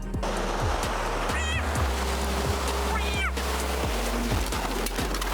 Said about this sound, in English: Just seconds after the ice cracked, the boat became a target for a towering wall of water.